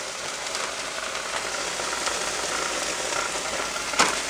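Peppers sizzle in an overheated pan, a steady broadband hiss and crackle held at an even level throughout, with a sharper spit or pop near the end.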